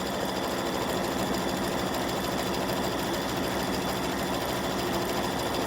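An embroidery sewing machine runs a satin stitch on a gnome appliqué, a fast steady mechanical chatter with even rapid needle strokes throughout, close and constant.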